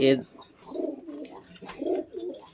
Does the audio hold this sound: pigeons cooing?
yes